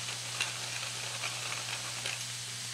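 Salt-cured pork sizzling gently in a pan for carbonara, a soft, continuous crackle with scattered small pops, under a low steady hum.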